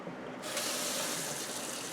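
A kitchen tap turns on abruptly and runs while bell pepper seeds are rinsed. The water stream starts with a sudden rush, then keeps up a steady, close splashing hiss.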